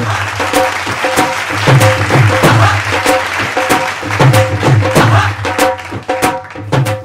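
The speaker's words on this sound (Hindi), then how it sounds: "जोरदार तालियां हो जाए जोरदार तालियां" Studio audience applause at a staged Indian television serial crossover event: steady, dense clapping sustained for several seconds, blended with music throughout.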